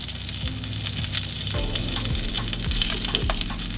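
Salmon fillet frying in olive oil in a pan, a steady close sizzle with faint crackles and soft pops throughout.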